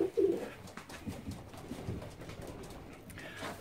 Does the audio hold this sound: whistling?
no